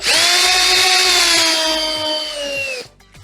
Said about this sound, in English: we're gonna put on the final buffing pad